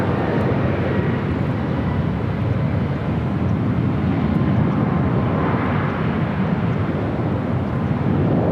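A jet airliner on final approach to land on runway 24 left at Los Angeles International Airport, a loud, steady broadband engine roar with wind rush that holds constant and close throughout.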